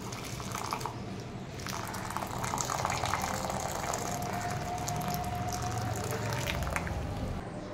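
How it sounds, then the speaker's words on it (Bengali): Hot water boiled with neem leaves poured out in a steady splashing, bubbling stream, fairly close and moderately quiet, continuing for several seconds without any talking. "তারপরে সেই গরম জলটা এরকম ঢেলে নিচ্ছি।"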